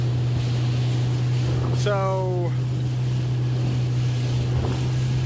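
A small boat motors along a river with a steady low engine drone and wind buffeting the microphone, close and continuous; a brief voice cuts in near the start.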